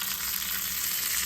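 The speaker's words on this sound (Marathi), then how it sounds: "इथे लहान कढईत फोडणी तयार केलेली आहे. 2 चमचे तेलामध्ये मोहरी, जिरं, हिंग घातलेलं आहे. आणि आता ह्या लाल सुक्या मिरच्या घालते आणि थोडी कढीपत्त्याची पानं." Dried red chillies and curry leaves hit hot oil in a small kadhai with mustard seeds, cumin and asafoetida for a tempering, producing a loud, close, continuous crackling sizzle that cuts off abruptly at the end.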